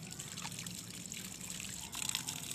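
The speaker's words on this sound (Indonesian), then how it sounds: "Langkah pertama adalah membasuh tangan dengan air mengalir." Running water trickles steadily as hands are rinsed under a flowing stream, faint and close, with no talk over it.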